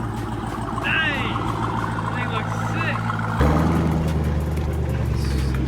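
A 1000-horsepower Trackhawk engine pulls away with a deep, steady rumble that swells into a louder, lower growl partway through, while voices murmur nearby.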